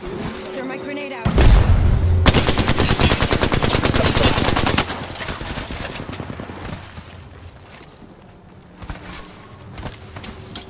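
In a gunfight in the video game Apex Legends, a heavy boom of a grenade going off is followed by a long, loud burst of rapid automatic gunfire, then scattered shots and movement as things calm down.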